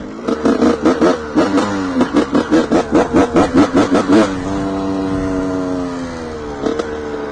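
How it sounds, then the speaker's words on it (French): An old 125cc two-stroke motorcycle rides under a bridge, a loud close run of rapid revving bursts followed by a steadier droning note and one last short blip, with no talk over it. "On va se laisser sur le doux son de cette vieille moto. Le doux son du 125 de temps. En passant sous un pont."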